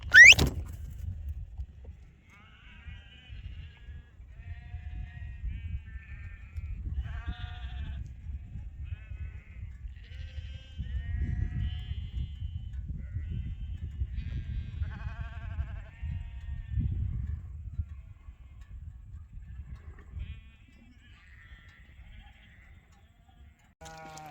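Ewes bleat in a farm yard, several calls scattered over a low rumble of wind or movement, with a fairly distant, outdoor feel and no clear talk.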